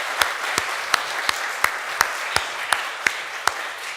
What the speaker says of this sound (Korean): 저 들려라 하고 크게 한번 박수하면 좋겠습니다